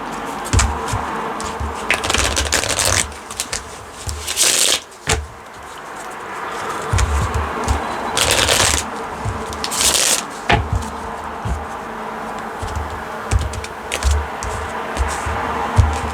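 Moonology oracle cards are shuffled by hand in repeated bursts of riffling and sliding, close and crisp, with short pauses between rounds.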